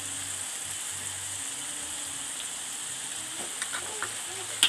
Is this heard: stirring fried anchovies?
yes